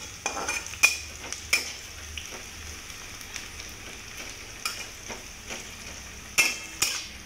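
Spring onion with its greens roasting in a pan, a faint steady sizzle broken by sharp metallic clinks and scrapes of a utensil against the pan, close and otherwise quiet.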